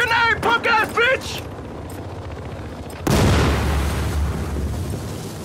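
In Battlefield Hardline, placed charges and a grenade go off in one sudden, loud blast that rolls into a long rumbling decay, preceded by shouted speech and quieter background noise.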